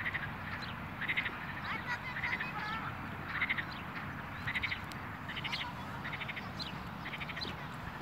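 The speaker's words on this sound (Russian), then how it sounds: "Квакают." Frogs croak from an artificial park pond in Tbilisi, a steady chorus of short, rattling calls repeating in clustered bursts over a quiet outdoor background, with no talking.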